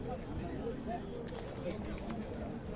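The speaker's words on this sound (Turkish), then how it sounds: "Süs güvercinleri var." Ornamental pigeons coo softly at a busy outdoor bird market in Istanbul's Edirnekapı. The low cooing is partly masked by nearby people talking and general crowd noise.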